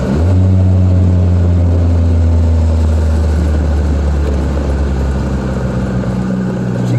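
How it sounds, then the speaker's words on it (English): A Triumph Spitfire's exhaust drones loud and steady as the car drives, a continuous low engine rumble with faint harmonic tones throughout and no voices. "Sound of the exhaust."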